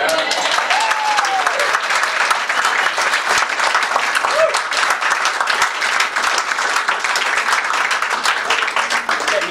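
An audience gives a round of applause at a speech, dense sustained clapping from many hands filling the room for the whole stretch, loud and close.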